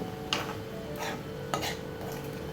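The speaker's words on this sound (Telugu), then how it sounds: "తాలింపు పొడి వేసిన తర్వాత ఒకసారి బాగా తిప్పుకోవాలి" A spoon scrapes and taps against a pan a few times, with soft stirring sounds and light sizzling underneath as carrot tempering with tempering powder is stirred.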